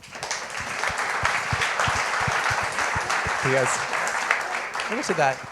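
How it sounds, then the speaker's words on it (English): Audience applause for a climate round-table panel, a steady dense patter of many hands that holds for several seconds, with brief voices rising near the end. "can I get a round of applause for our panelists?"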